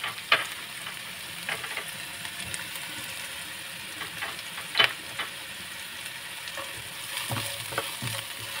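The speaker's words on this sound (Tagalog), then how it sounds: "i-fry natin yung ating chopped onions" Chopped onions frying in oil while being stirred for tortang giniling, a steady soft sizzle with occasional scrapes and taps of a utensil against the pan, close and fairly quiet.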